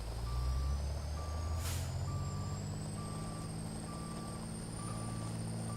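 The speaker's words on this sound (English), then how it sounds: "Sorry about the backup beeper, everybody." Backup beeper on a truck in American Truck Simulator: regular high-pitched reversing beeps pulse over a heavy idling engine drone, broken early by a short hissing burst of air, with no voices.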